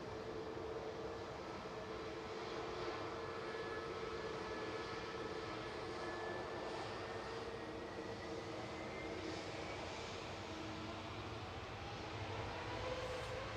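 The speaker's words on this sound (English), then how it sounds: "easyJet's UZHL departing to Malta." An easyJet airliner departing Manchester Airport for Malta, heard as a steady, distant, broad engine roar that holds level for the whole stretch, with no talking.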